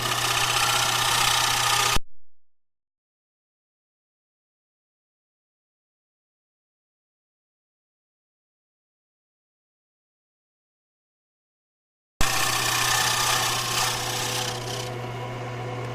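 Woodturning tool cutting the outside of an oak bowl on a lathe, a loud steady scraping hum with motor drone, broken by a long silent gap before resuming.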